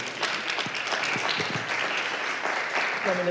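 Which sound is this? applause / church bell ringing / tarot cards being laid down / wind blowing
applause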